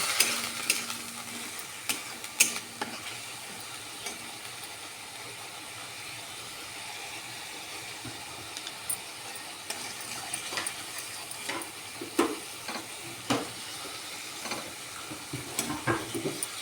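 Spice paste and potatoes frying for aloo dum, a steady close sizzle broken by scraping spatula strokes against the pan, with clusters of sharper stirring clatters toward the end and no talking.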